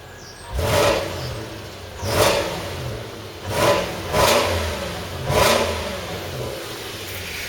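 A Volvo S80 4.4 SE Sport V8 engine is revved four times in succession, each loud throaty burst rising and falling back to idle close by.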